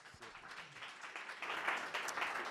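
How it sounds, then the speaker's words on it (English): Audience applause at a cyber risk talk at Lloyd's Lab, starting soft and swelling into steady clapping over a couple of seconds, moderately distant with a faint voice at the start. "give a round of applause."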